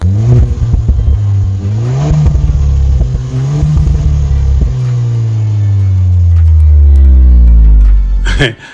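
A Chery Tiggo 8 Pro Max facelift SUV engine revving, loud and close, rising and falling several times before a long climbing rev that holds high, then cuts off abruptly, with a droning, somewhat coarse tone.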